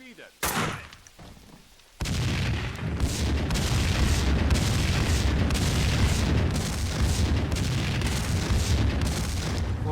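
Big explosions boom in Max Payne 2 as a building collapses, opening with a sharp blast, then a dense, loud roar of continuous rumbling and crashing debris filling the rest, with a voice commenting early on.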